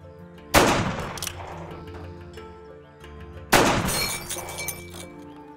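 Two loud gunshots ring out a few seconds apart. Each one shatters a glass bottle, and the breaking glass crashes and tinkles briefly before fading.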